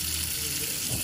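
Water runs steadily from a tap for washing chicken, a continuous close rushing hiss with no pauses.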